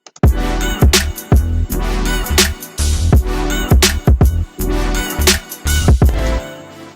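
Chill hop drums made in FL Studio with stock plugins, run through a soft compressor: heavy kick and snare hits in a steady looping groove, loud and punchy with a full low end, and no voices.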